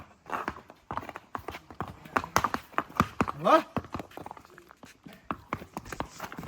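Horse hooves clip-clop in an uneven rhythm at close range on a Matheran horse ride, mixed with scuffs and a voice talking intermittently over the steps.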